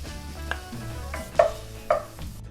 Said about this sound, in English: we're going to melt the butter in a large saucepan, add the shallots, and saute until golden brown